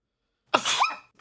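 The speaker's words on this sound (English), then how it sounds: "they heard the cute variant of your sneeze." A single sharp sneeze bursts out close by, a quick intake followed by an explosive exhale, then a short trailing breath.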